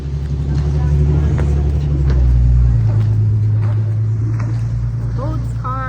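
Motor vehicles rumble past nearby, one engine dropping in pitch as it goes by, with traffic noise and faint clunks in the background.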